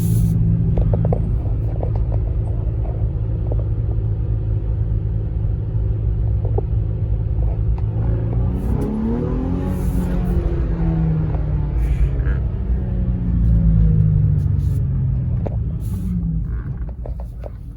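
A completely stock Nissan 350Z with its DE V6 drones steadily from inside the car while driving, its engine note rising and swelling midway as it accelerates, with no talking.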